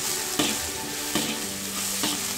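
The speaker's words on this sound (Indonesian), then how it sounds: "tumis tumis hingga berubah warna dan harum deh" Chopped green beans sizzle in a hot pan as a spatula stirs and scrapes them at regular intervals, a steady close sauté with three distinct stirring strokes.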